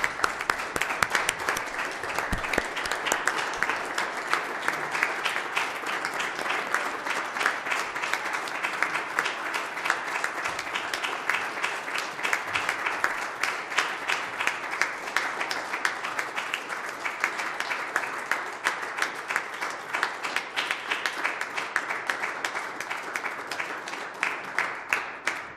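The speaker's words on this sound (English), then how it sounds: "I'd like to get a round of applause" Sustained applause from an audience at a Stratford town council session honoring a soldier and his family, steady dense clapping held for the whole stretch at moderate distance, with no talk over it.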